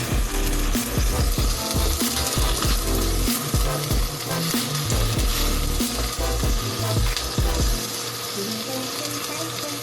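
Butter sizzles and crackles steadily in a hot pan of succotash, with repeated stirring scrapes and clinks close up throughout.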